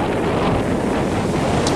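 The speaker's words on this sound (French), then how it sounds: "Et il y a un vent absolument abominable ce matin." Strong morning wind gusts roar steadily across the microphone on a two-day trek in the Dourbie valley, a loud continuous buffeting with no voices.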